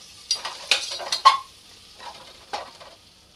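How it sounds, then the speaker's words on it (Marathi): Mint leaves and coriander sautéing in hot oil: a few sharp spoon-against-pan scrapes and stirring clatters over a soft sizzle, close by, with no voices. "याला आपण तेलामध्ये परतवून घेऊ म्हणजे छान त्याचा सुगंध जे आहे तो आपल्या फोडणीला उतरेल."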